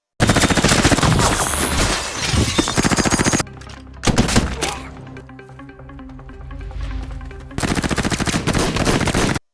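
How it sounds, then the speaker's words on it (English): Loud, rapid bursts of automatic gunfire, a sustained barrage that pauses for a few seconds of quieter rumble and scattered shots before resuming. "After the gunfire stops, the mercenaries move in carefully."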